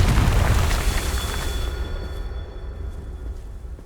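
A Confringo spell explodes in Hogwarts Legacy on PS5: a loud, close, booming blast with a rumbling roar that slowly decays, and a faint high tone ringing through it.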